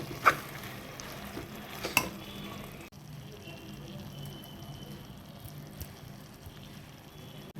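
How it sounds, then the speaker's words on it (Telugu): Prawn and gongura curry stirred in a pan, soft scraping and gentle bubbling sizzle close up, with a few sharp clinks of the spoon at the start. "గోంగూరని రొయ్యల్లో వేసేసుకోవటం నేను. మొత్తం కలిసేటట్టు కలయి తిప్పుకోవాలి."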